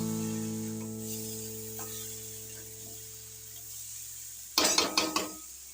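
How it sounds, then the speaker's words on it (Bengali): Fried jackfruit pieces are stir-fried in a pan over a low, steady hum and sizzle, with a brief flurry of close scraping strokes from a spatula near the end. "এবার এর মধ্যে আমি অ্যাড করে দিচ্ছি ভেজে রাখা এঁচড়গুলো এটাকে আমি আর একটু ভালো করে কষবো"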